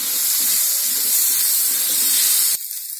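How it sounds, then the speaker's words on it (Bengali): Bay leaf, dried chillies and panch phoron hit hot oil over lightly fried potatoes for a pumpkin and potato chokka, giving a loud, steady, close sizzle for about two and a half seconds before it drops off sharply. "একটা তেজপাতা, দুটো শুকনো লঙ্কা আর পাঁচফোড়ন দিয়ে দিলাম"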